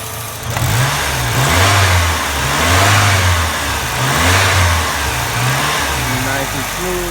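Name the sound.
Saab 900 Commemorative Edition engine running after cold start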